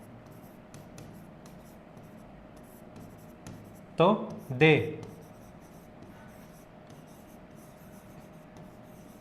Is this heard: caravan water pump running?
no